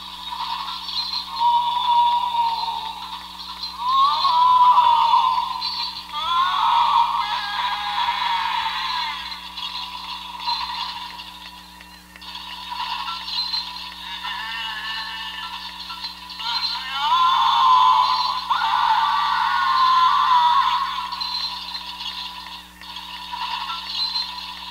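An animated slashing winged reaper Halloween toy with chains plays harsh, tinny electronic sound effects and moans through small coin speakers, loud and shrill in long continuous waves with a steady underlying hum.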